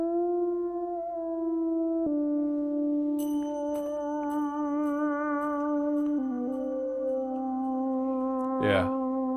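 A synth plays sustained, buzzy held tones that shift pitch in steps, imitating a thin telephone-style filtered vocal, with a brief gliding squeal near the end and a voice faintly audible underneath.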